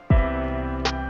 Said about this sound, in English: What is this effect on the piano?